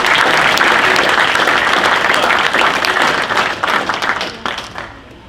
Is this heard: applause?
yes